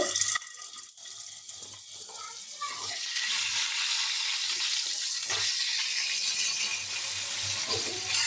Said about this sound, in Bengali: আলুগুলোকে এরকম লম্বা করে কেটে ধুয়ে রেখেছি দিয়ে দেব তেলের মধ্যে